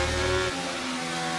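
F1 race car in the F1 23 video game thrown into a corner, engine note dropping sharply as it lifts off, then a steady tone with tire noise, moderately loud and alone.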